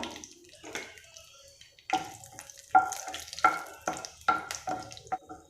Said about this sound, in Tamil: பிரியாணி இலை, அந்த பட்டை, அன்னாசி பூ எல்லாத்தையுமே அது பொரியட்டும்.